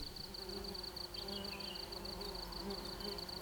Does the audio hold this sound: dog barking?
no